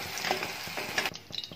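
Onion, tomato and green chillies fry and sizzle in a pan for a chicken malai handi curry, with steady crackling and occasional stirring scrapes, close and moderately loud, no voices.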